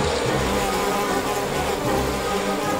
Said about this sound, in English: Where are all these bees coming from?